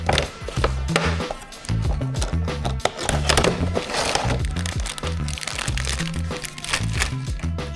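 Scooter part for a Yamaha BWS 70 being unboxed, with continuous loud crinkling and crunching of packaging, dense irregular rustles and cracks close to the microphone.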